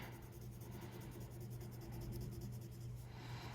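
Steady scratchy rasp of a colored pencil shading across paper, close and continuous with slight variations in pressure.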